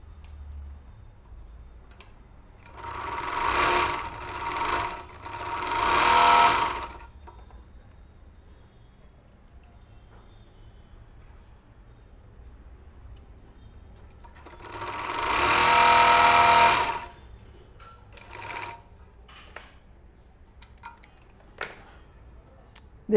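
An overlock machine stitches through polyester trouser fabric in two loud, steady bursts of a few seconds each. Quieter mechanical clicks and handling noises fill the pauses, and nobody talks.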